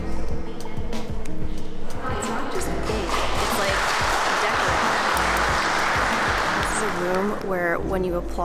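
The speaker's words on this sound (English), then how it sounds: "when you applause, it sounds like 5 people are applauding" A few people clap in a vast hall of the Palace of the Parliament in Bucharest, the applause swelling into a reverberant wash for several seconds, with voices talking before and after.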